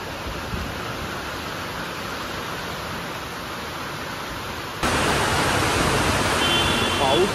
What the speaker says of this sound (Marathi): पाऊस आला खूप जोरात.